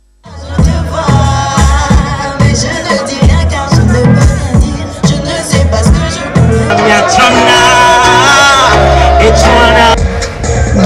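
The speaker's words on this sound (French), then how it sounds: "Des cris et des encouragements pour acquiescer le choix du jury." A concert crowd shouts and cheers loudly and continuously at a youth talent contest final, with whoops and roaring applause over booming amplified music.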